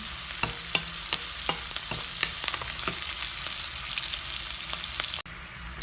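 Onion and garlic fry in a pan with a dense, continuous close sizzle and a few sharp stirring scrapes early on, steady and loud with no voices.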